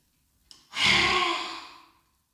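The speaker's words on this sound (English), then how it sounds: "So take an inhale. And exhale." A single deep, drawn-out breath as part of a chakra-balancing breathing exercise, a sharp intake followed by a long, audible sighing exhale that fades out, close and fairly loud, with no talking.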